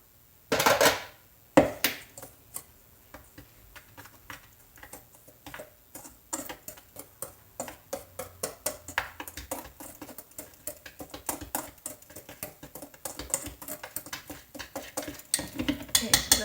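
Dry powder ingredients for crepe batter are whisked in a bowl, a fast rattling ticking of utensil against the bowl that builds into dense rhythmic clicks over about fifteen seconds, close and fairly loud, after a couple of sharp knocks at the start.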